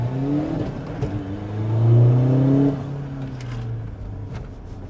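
A VW Amarok 2.0 BiTDI pickup fitted with a hybrid turbo accelerating hard through the gears on a private road. The engine drone rises in pitch, swells loudest mid-pull, then eases back.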